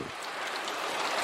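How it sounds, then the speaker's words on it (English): A light drizzle after a heavy thunderstorm downpour makes a soft, steady hiss of raindrops pattering on surfaces nearby, with no voices. "it's chilled out a bit. It's a mere drizzle now."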